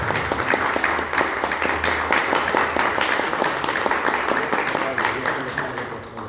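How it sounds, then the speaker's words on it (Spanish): A crowd applauds steadily for several seconds, dense clapping that tapers slightly toward the end. "Aplausos para Andreas Unger."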